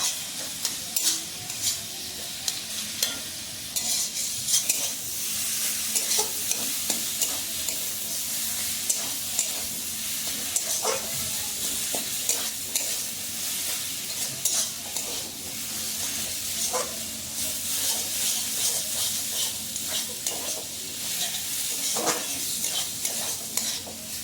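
Leafy field greens with onion are stir-fried in a pan, a steady hissing sizzle broken by repeated scraping and stirring strokes of a spatula throughout, with no one talking.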